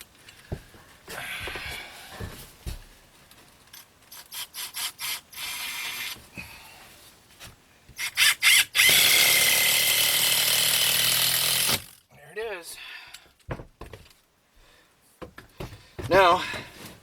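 Material being cut and trimmed to fit around a window in a tiny house loft, with bursts of ratcheting, scraping and snipping, one long loud rasping stretch and some squeaky tool strokes, close by.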